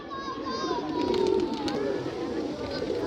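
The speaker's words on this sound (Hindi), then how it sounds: "देखो ये कैंच कबूतर रखे हुए हैं इन्होंने, उड़ी भी रहे हैं इनके।" Kept pigeons on a small rooftop give soft, throaty coos in a low, burbling cluster, fairly faint against outdoor background noise with a voice talking over them.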